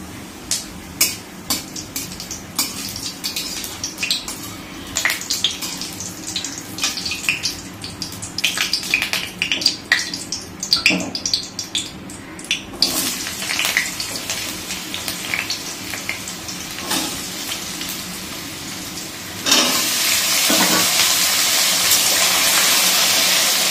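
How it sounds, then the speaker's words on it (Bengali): Potatoes frying in hot oil in a wok for a Durga Puja dish, with whole garam masala, cumin and bay leaf tempering: a steady, close crackle with sharp spits and stirring clatter, swelling into a loud continuous sizzle near the end. "আর এই যে কড়াইতে তেল দিয়ে দিয়েছি, আলুটা ভেজে নেব"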